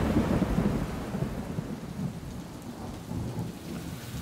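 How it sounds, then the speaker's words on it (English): Thunderstorm out on the water with steady rain hissing across surfaces and low rolling thunder rumbling underneath, loud and continuous throughout, no talking. "Thunderstorm looks like it's going to come through here"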